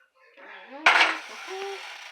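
A cooking pan for morel mushrooms is lifted and set down on a stovetop with one loud metallic clatter, followed by a fainter ringing knock, close by.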